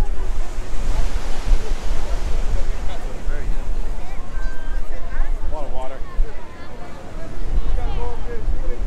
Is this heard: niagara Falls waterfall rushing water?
yes